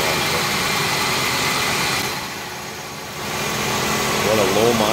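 A steady 1985 Oldsmobile Cutlass Supreme Brougham engine hum runs throughout, easing briefly midway then picking back up, with a faint voice near the end.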